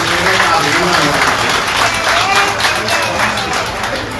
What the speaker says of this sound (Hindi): आग्रह करूंगा एक बार जोरदार ताली बजा दीजिए